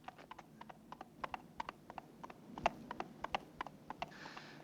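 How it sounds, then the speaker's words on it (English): A horse's hooves clip-clop steadily on a hard surface, a rapid run of sharp clicks over low background noise, fairly faint and without talk. "Do you see a horse?"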